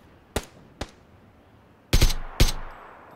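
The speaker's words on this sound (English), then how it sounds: "I'm getting shot at." Gunfire in the video game PUBG (Battlegrounds): two single sharp shots, then after a pause two louder, heavier cracks with a short echoing tail, all spaced apart against a quiet background.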